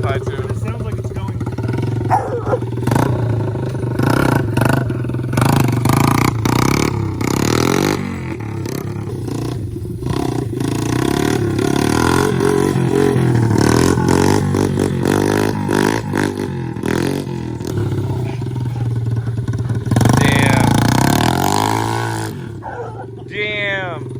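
A Yamaha TTR 90 converted into a three-wheeler runs at a high idle, a steady buzzy engine drone close by with a few throttle rises, under almost constant talking.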